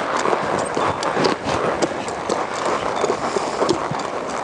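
Hooves of a buckskin horse clip-clop steadily at close range during a training session, a busy rhythmic patter of footfalls over a continuous noisy background.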